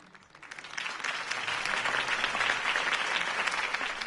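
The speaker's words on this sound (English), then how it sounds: "If only Mr. Wayne, my campaign's largest backer, could have heard that applause" Crowd applause rising after a campaign speech in the Batman Telltale video game, a dense steady wash of many hands clapping that swells in the first second and holds loud throughout.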